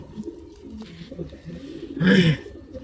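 A racing pigeon coos once in a loft, a short low throaty burst near the end, over a quiet murmur of background voices and faint bird sounds.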